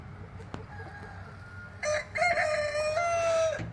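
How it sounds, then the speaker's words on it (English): A young Thai rooster crows once, a clear drawn-out call in the latter half, preceded by quiet background and a soft click. "It's already crowing too."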